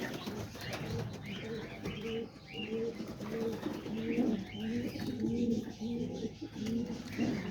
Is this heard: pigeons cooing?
yes